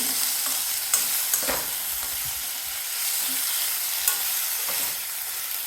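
Boiled plantain sizzles steadily in hot oil with frying onions while a spoon stirs and scrapes the pan, with a few sharp clinks.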